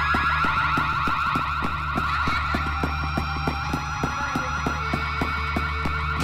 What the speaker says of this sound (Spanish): Allá va la alarma.